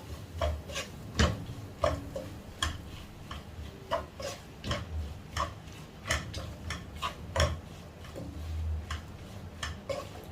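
Spatula stirring onions and masala in a pan for Kerala-style chicken and potato curry, with close rhythmic scraping and soft knocks repeating every second or so.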